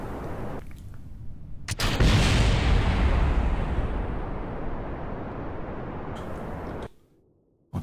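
Decoupler exploding on a rocket in Kerbal Space Program: a sudden loud blast followed by a long roaring rumble that slowly fades before cutting out, with no talk.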